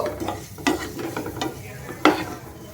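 Onion and tomato being stirred and fried in a pan, with a steady low sizzle and a few sharp scraping clinks of the spoon against the pan.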